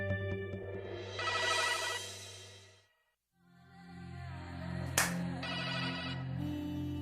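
A phone plays a ringtone in two steady, tonal bursts separated by a short silence, moderately loud and with no voices over it.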